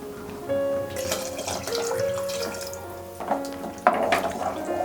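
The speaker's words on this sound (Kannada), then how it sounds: "ಮತ್ತು 2 ಗ್ಲಾಸು ನೀರು ಹಾಕ್ಕೊಳ್ತಾ ಇದ್ದೀನಿ." Two glasses of water poured into a pot while cooking veg soya pulao in a home kitchen, a running, splashing stream with dripping and clinking that grows louder toward the end.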